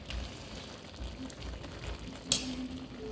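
Dried fish (tuyo) fries in a pan of ginataang talbos ng gabi with a soft, steady crackling sizzle, faint and continuous, and one brief sharp clink partway through.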